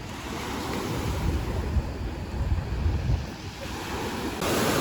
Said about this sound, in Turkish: Evet bu da sahilin görüntüsü.